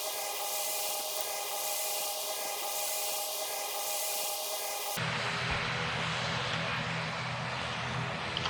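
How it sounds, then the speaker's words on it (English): An ATR-72 turboprop airliner in the Roblox PTFS flight game drones with a steady, loud engine and propeller hum, then shifts partway through to a rougher, broader roar with a low rumble. "This is only a small prop plane."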